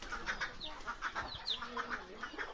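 Native desi chickens cluck and call repeatedly in short, close bursts, with steady soft farmyard background and no talking.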